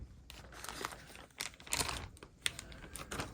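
A plastic bag holding a knife is torn and crinkled open, in quiet, close bursts of rustling and crackling spread over a few seconds.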